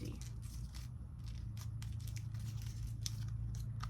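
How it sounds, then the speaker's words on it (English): Small slips of paper from a TBR jar are crumpled by hand in a series of sharp, crinkly bursts spread over several seconds, close to the microphone over a low background hum. "I crumple these papers so crazy"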